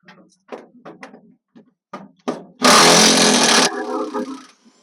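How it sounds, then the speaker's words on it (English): A power tool spins out the cab bolts on a homemade crew cab pickup, a single loud, dense whirring burst of about a second after several light clicks and taps. "See if I can zing out these bolts here."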